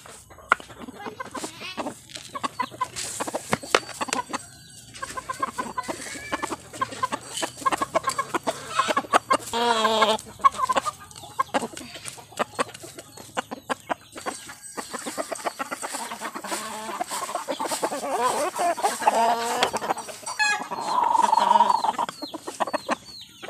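Chickens cluck busily and continuously while being fed at a farm, a dense mix of close clucks and squawks with occasional louder calls and some movement noise.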